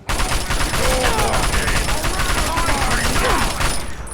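Controlled bursts of gunfire in Fallout 3, a dense, continuous clatter of shots sustained at steady loudness through the whole stretch, with other game sounds mixed underneath.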